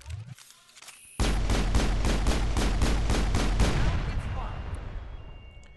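Pistol fire in the video game Mass Effect, a rapid burst of about ten evenly spaced shots, loud and close, trailing off into a fading rumble.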